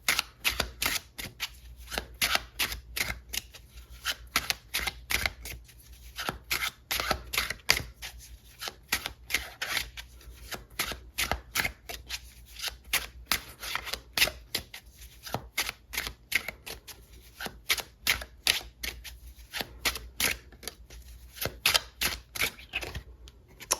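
Tarot cards are shuffled over and over in rapid riffling bursts, crisp and close, with short pauses between runs and no talk.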